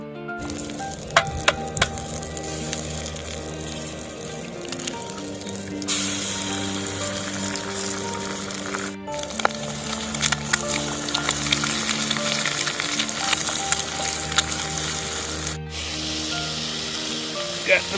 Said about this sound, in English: Got the bacon going.